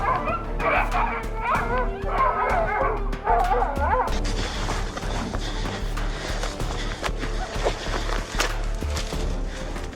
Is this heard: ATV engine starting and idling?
no